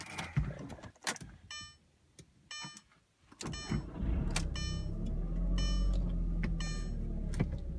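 A 2002 Audi TT coupe in a cabin setting: door and interior clicks and chimes, then the engine catches and settles into a steady low idle rumble, heard close from inside with no talking.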